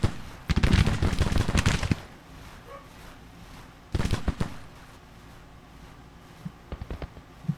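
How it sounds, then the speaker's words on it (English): Civil War cannon fire in the strategy game Grand Tactician: The Civil War cracks out in two dense bursts of rapid, booming reports, followed by a few scattered single shots in the quiet after. "And the artillery is coming out to play."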